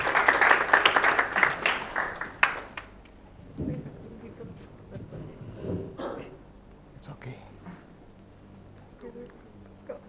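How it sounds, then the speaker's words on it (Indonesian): A church congregation applauds during a worship service, loud dense clapping at the start that fades into quieter scattered claps and room noise with voices. "kasih tepuk tangan terbaik buat Tuhan"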